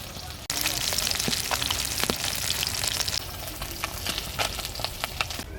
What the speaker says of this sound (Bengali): বাটা মাছগুলো ভাজা হয়ে গেছে এবার আমি তুলে নিচ্ছি